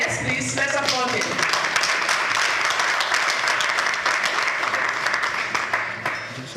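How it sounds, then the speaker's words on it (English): Steady, dense applause from an audience at an award event, continuous clapping holding level for several seconds with a voice briefly audible at the start before it fades slightly at the end. "To all, yes please, let's applaud him."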